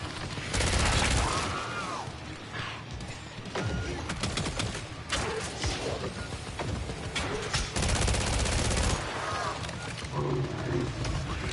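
Rapid automatic rifle fire from a 30-round magazine in the video game Killing Floor 3 rattles in dense bursts across the clip, mixed with loud creature roars and growls in a busy, close battle.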